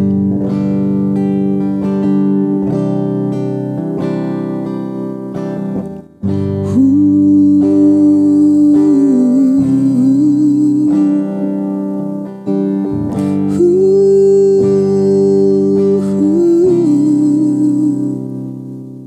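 Guitar played dry with no reverb on old, worn strings, sustained strummed chords underneath a picked melody line that bends and wavers, steady and close for nearly twenty seconds.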